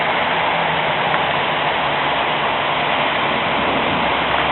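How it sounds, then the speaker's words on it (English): Heavy rain pours steadily onto a parking lot, a dense, loud, unbroken hiss throughout. "I don't know if you can tell, camera, but it's absolutely pouring."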